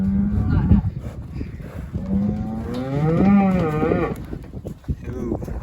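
A three-year-old beef bull lets out a deep, drawn-out moo in the middle, with shorter low grunts before and after and faint voices in the background.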